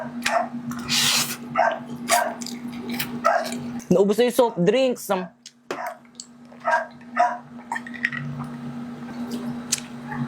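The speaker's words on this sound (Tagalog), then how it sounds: "kaya maingay yung mga lalaking aso" Male dogs bark and yip in short bursts amid squishy chewing of barbecued isaw (grilled chicken intestine), with a person talking over them.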